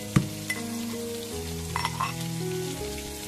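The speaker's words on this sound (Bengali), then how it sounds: "এই যে সর্ষের তেলে রসুন আর শুকনো লঙ্কা দুটোকেই ভালো করে ভেজে নিলাম" Garlic and dried chillies fry in hot mustard oil with a soft crackle, punctuated by a few sharp pops and clinks of a spoon; steady tonal hum runs beneath, with no voices.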